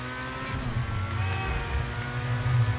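A car drives fast in a video game with a loud, steady engine drone and a gradually rising whine, and no one speaks.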